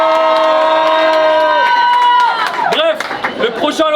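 A student association party crowd, loud and close, cheers and shouts with scattered clapping, and a sustained tonal sound fades out under the growing noise.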